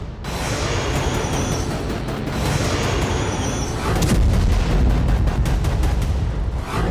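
A GLSDB guided bomb strike in Luhansk produces a loud, sustained roaring blast, a dense continuous rumble with crackling that swells heavier and deeper midway and stays intense to the end.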